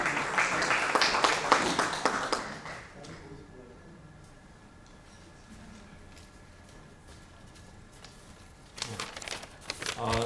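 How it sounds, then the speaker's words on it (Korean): Audience applause at a Korean internet newspaper's 22nd anniversary ceremony greets the association chairman: a dense burst of clapping at the start that thins to a murmur, then picks up again near the end. "뜨거운 박수 부탁드립니다."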